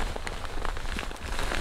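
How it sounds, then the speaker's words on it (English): Steady patter of rain falling on a surface, soft and close, with scattered individual drops standing out. "It's raining."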